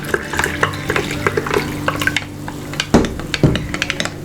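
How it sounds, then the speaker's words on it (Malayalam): A spoon stirs squash and water together in a glass or jug, giving a quick run of loud, close clinks and scrapes that pause briefly before starting again. "ഇനി ഇതിലേക്ക് ആവശ്യത്തിന് വെള്ളവും കൂടി ഒഴിച്ചൊന്ന് മിക്സ് ചെയ്യുക."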